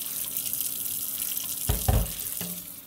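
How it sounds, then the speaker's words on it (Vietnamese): Tap water runs steadily into a sink while a bowl is rinsed, with a few louder splashes and clunks of the bowl near the end. "Rồi mình sẽ rửa sạch cái tô này."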